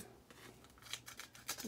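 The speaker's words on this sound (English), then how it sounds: "Use a scissors. Use a scissors." A few quiet, crisp snips of scissors cutting through a crinkly plastic Pokémon card pack, close by, with faint rustling in between.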